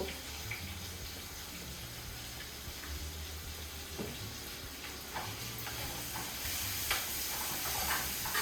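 Turmeric and asafoetida crackle softly in hot oil for star fruit rasam, a steady low sizzle running the whole time with a few small pops, fairly quiet and without any talk.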